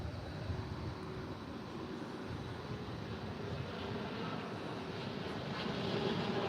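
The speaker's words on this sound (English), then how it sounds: "We've got another UPS 767-300ER coming out" UPS Boeing 767-300ER jet aircraft taxiing out at DFW airport, a continuous moderate engine rumble and hiss, fairly distant and even in level.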